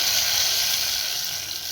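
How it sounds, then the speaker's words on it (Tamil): Hot ghee tempering poured into moong dal sambar gives a steady, loud sizzling hiss close by that continues without a break and has no speech over it. "இப்போ இந்த தாளிப்பை நம்ம இதில் ஊற்றிடலாம்."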